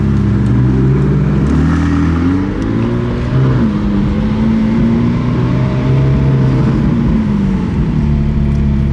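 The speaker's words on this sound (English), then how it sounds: "Look at this, Huayra BC Roadster pulling out." A Pagani Huayra BC Roadster hypercar pulls out, its engine a loud, steady close roar with rising and falling revs throughout.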